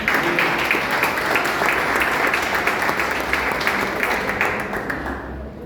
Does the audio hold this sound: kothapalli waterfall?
no